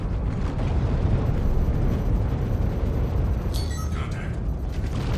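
Gunfire and explosions from a video game rumble in a dense, continuous roar, with a few brief higher bursts near the end, loud and close.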